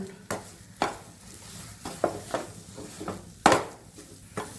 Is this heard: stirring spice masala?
yes